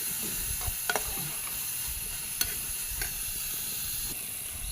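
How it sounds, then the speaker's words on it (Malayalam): Carrot and pumpkin sauté in ghee with a steady close sizzle, broken by a few sharp clicks and scrapes of a spoon stirring in the pan. "ഇത് നെയ്യിൽ തന്നെ നന്നായിട്ട് വഴറ്റിയെടുത്താലാണ് ടേസ്റ്റ് ഉണ്ടാവുക കേട്ടോ."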